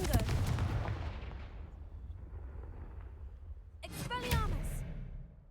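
Confringo fire spell cast in Hogwarts Legacy: an explosive fiery burst that slowly decays, followed near the end by a second sharp blast mixed with a voiced cry.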